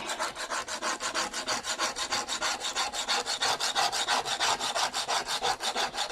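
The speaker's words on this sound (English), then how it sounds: "the longer you let this soak, the more you'll get off with your scraper" A scraper is pushed in quick, regular strokes over a surface to lift off soaked residue, giving a close, rhythmic rasping at about four scrapes per second with no talk.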